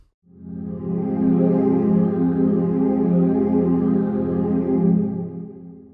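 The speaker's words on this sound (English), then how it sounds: "Synth Fairy is a pad with a nice phaser going on," Sustained pad synth from a tech and minimal house sample pack, warm and dense with a slow sweeping phaser, swelling in after a brief silence and holding steady and loud for several seconds before fading.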